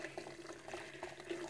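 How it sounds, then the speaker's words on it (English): Hot water poured from a kettle into a yoghurt maker, a steady trickling, splashing stream of liquid filling the container, close and continuous at low level throughout. "all you have to do is pour hot water up to where, just above the red line, the red baffle"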